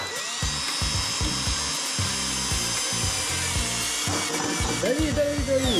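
Cordless screwdriver driving a screw into wood while building homemade stilts: a close, continuous whirring motor with rhythmic pulsing as the screw bites in, rising toward the end.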